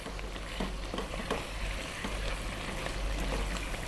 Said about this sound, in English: I'm going to be stirring this for maybe 10 or 15 minutes